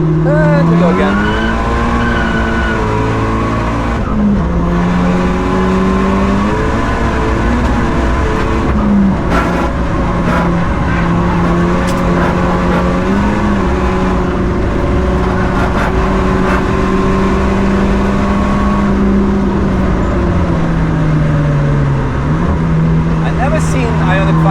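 A Hyundai Ioniq 5N is driven hard on the Nürburgring, giving a loud, steady synthetic engine drone that rises and falls in pitch through shifts and corners, with tire noise underneath.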